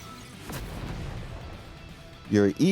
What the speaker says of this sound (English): And you can fire a beam.